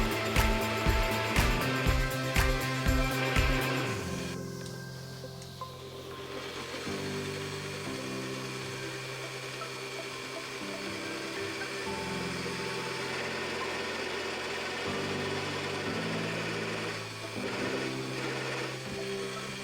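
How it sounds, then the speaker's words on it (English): A drill press starts with a few rhythmic clunks, then settles into a steady motor whine as a Forstner bit bores a recess into wood, the pitch shifting with load. "Over at the drill press, using a Forstner bit to cut the recess for the handle"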